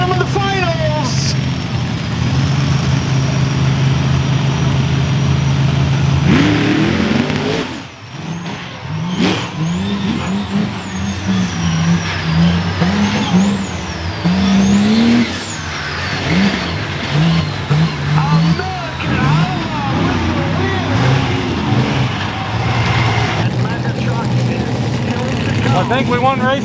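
A Cummins diesel monster truck races in a final on a short track, its engine loud and close, revving and pulling through gears with rising and falling pitch and a brief dip partway, while voices talk over it.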